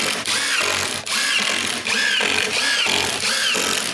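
A power drill drives screws into a wooden mortising jig, its motor whirring loud and close in several pulses that rise and fall with brief dips between them.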